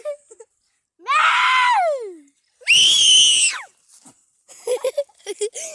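A person lets out two long, loud, high-pitched screams with a pause between them, followed by a few short choppy vocal bursts.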